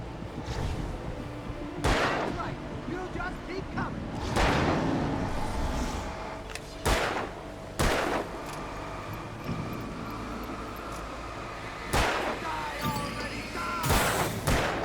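Gunfire in the survival horror video game Alan Wake 2: a series of sharp, loud shots, some in quick pairs, breaking up a steady rumbling game soundscape with no talking.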